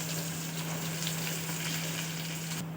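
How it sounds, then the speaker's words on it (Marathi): Onion frying in oil after crushed garlic has browned, giving a steady, close hiss of sizzling throughout with a faint low hum underneath. "आता घालून घेऊया कांदा पण छान लाल होऊ देऊया तेलामध्ये"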